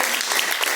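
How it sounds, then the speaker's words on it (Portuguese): A church congregation claps together in praise during a worship service, steady dense applause filling the space without pause. "Palmas que louvam e agradecem o nome do Senhor."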